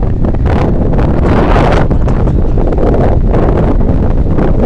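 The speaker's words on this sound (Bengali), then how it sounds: "আর বাতাস, সুন্দর বাতাস, শব্দ বুঝতেছেন" Loud, gusty wind buffeting the microphone on a village road beside a small wetland, a continuous heavy roar that surges and eases.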